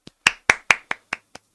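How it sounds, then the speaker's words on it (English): Hands clap in a short round of applause, eight sharp, close, evenly spaced claps that fade toward the end, with no talk over them. "Round of applause."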